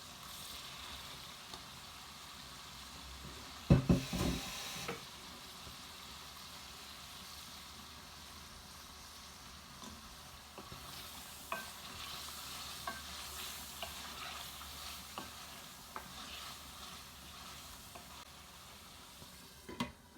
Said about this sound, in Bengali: মাছ বুনমু মশলার লগে আরো 2 মিনিট।